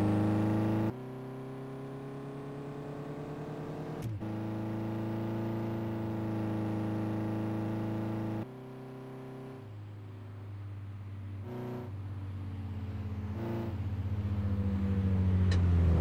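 A car driving a timed lap of the Top Gear test track gives a steady engine drone with shifting pitch, dropping off as gears change and rising again toward the end.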